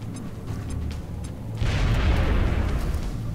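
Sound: vehicle exploding in the video game XCOM Long War

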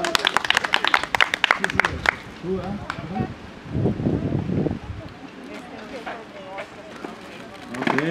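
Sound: applause from the audience

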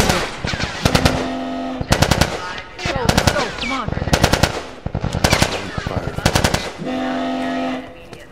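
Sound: gunfire in The Last of Us video game

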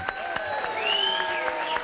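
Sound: audience applause at jazz concert

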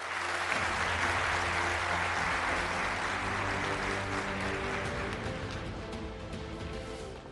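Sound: audience applause

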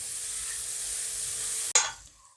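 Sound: chopped onions sautéing with ginger and garlic

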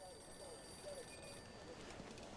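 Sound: telephone ringing in video game Mafia II

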